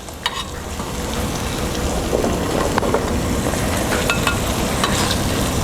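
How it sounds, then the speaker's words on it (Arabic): Chopped garlic sizzles and fries in a pot of onions while being stirred, giving a steady, close crackling hiss with occasional scraping clicks throughout. "نستمر في تقليب الثوم حتى يصبح لونه ذهبي"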